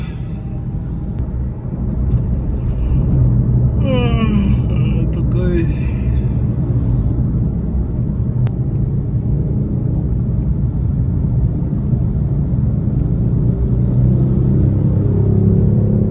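A car driving through city traffic in Indonesia, a steady low engine and road rumble under a passing vehicle's whine and scattered traffic noise, with someone talking over it.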